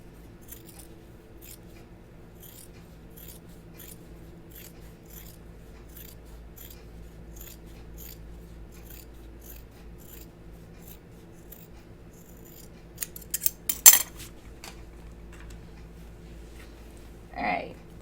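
Scissors trimming sewing fabric where no interfacing backs it: faint, evenly spaced small clicks run over a low steady hum, then a cluster of sharper, louder snips comes close by near the end, followed by one last cut.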